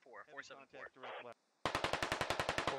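Someone talks, then after a short pause a close automatic weapon in Squad fires a fast, steady string of loud rounds.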